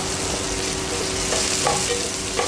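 Tomato is stirred into browned aromatics in a pan and fried, a loud steady sizzle close by with a few spoon scrapes and stirring clatters.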